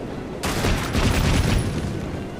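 Rapid gunfire from a gun in the video game Assassin's Creed Syndicate, a dense, loud burst of shots that starts abruptly and holds steady for about two seconds, no speech over it.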